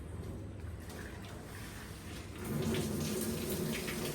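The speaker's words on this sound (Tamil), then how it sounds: "ஸ்ட்ரைட்டாக நம்ம சிங்கில் தான் வடிக்கணும்." Rice starch water poured from a pot straight into a kitchen sink, a steady rushing splash that swells louder and fuller partway through, with no talking.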